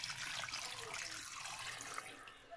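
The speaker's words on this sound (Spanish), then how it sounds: "Le voy a echar 4 tazas de agua para sancocharlas." Water poured steadily into a soup pot for chicken-feet soup, a continuous splashing pour heard close and alone.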